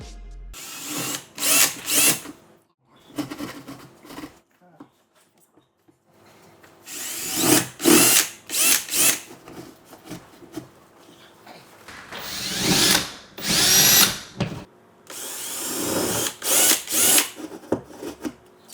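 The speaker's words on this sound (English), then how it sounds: "So now I drill 1/4 inch holes" A power drill whines in repeated short bursts with pauses between, boring 1/4 inch holes into a wall, close and loud.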